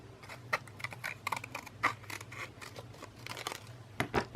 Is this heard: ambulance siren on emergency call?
no